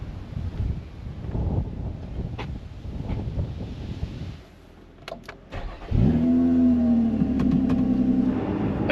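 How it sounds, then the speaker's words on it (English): A Lotus Emira sports car rolls along with road and wind noise, then a few clicks come before the engine fires and settles into a loud, steady, close rumble. "I'm driving his Lotus Emira"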